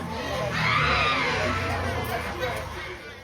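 Desperate screaming comes from an apartment, a sustained wash of shrill, distressed voices that rises and holds, sounding crowd-like and somewhat distant, with other voices mixed in.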